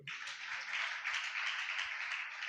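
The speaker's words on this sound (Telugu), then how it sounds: "చప్పట్లు కొట్టండి" A church congregation in Perecharla claps together during a sermon in a brief, even burst of handclaps that sounds moderately distant and fairly soft.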